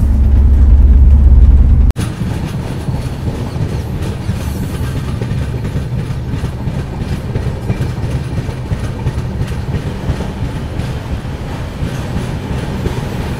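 Patalkot Express passenger train rolling along the rails into Kotkapura Junction, a steady loud rumble with rattling wheel noise throughout, after a brief louder burst at the start.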